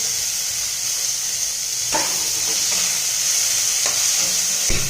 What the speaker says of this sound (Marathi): हा कांदा भाजल्यानंतर मी टोमॅटो या ठिकाणी चिरून घेतलेला आहे ते घालत आहे